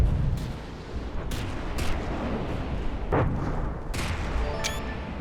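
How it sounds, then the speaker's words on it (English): Missiles from a standard Atlas craft slam into targets in From The Depths at night, a rapid series of loud booming impacts and cracks layered over a continuous rumbling din. "Missiles going in."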